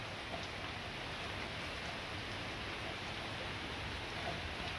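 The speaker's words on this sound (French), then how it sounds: "Déjà qu'il pleut bien chez moi, et pourtant on est en bordure de l'orage." Steady, dense rain pours down during a thunderstorm, on the edge of the storm's core, a continuous close hiss with no pauses and no voices.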